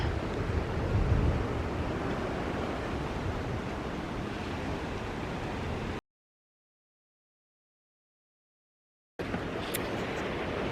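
Water at the Château de la Napoule, a 1300s castle on the French coast, heard as a steady broad rush like surf or moving water, continuous for six seconds, then silence, then resuming.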